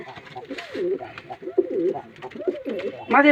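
Pigeons coo in repeated rolling low calls close by, with a voice talking faintly in the background.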